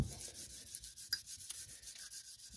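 A lower motorcycle fork stanchion being rubbed down by hand with 400 grit sandpaper gives short, rhythmic scratchy strokes, close up and moderately loud, with no voices.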